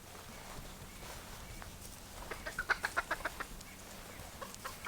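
Chickens cluck in a quick run of a dozen short, sharp calls while pecking at bee larvae beside burned beehives, moderately close over faint outdoor background noise.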